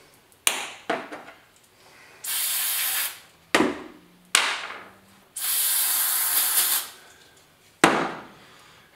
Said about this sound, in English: So give them a little shot of brake clean.